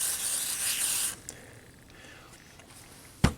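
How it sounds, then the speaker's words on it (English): A short spray of DeoxIT contact cleaner onto a Volvo's electrical connector hisses for about a second, then quiet handling noises and a sharp click or thump near the end. "I'm going to spray it with deoxit and plug it back in"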